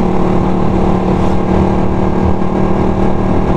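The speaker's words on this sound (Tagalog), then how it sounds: "yung motor natin medyo kumakadyot siya pag nasa mababang RPM" A Suzuki Raider 150 motorcycle engine running at low RPM with a slight stutter, a steady loud close drone with a humming tone and no talking.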